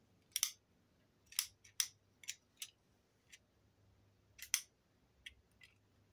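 Scissors cut paper pages for a handmade mini album, giving sharp, close snips in irregular pairs and singles, with quiet pauses in between and no voices.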